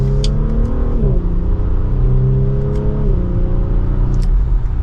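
A 2024 Audi SQ5 Prestige accelerates from second gear, its engine note climbing steadily then dropping briefly at quick upshifts before rising again, heard loud and close from inside the cabin.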